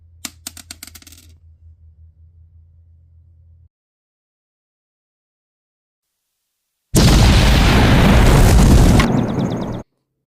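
A loud, sustained blast destroys a mega tank in a plastic toy war battle, roaring broadband for about three seconds after an earlier stretch of clicking, rattling sounds and a low hum.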